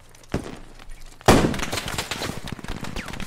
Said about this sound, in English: it's a MG, like 50 cal